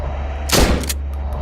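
A single loud, close shotgun blast in the survival horror video game SIGNALIS, a sharp broadband crack with a brief decaying tail, standing alone against a low ambient hum.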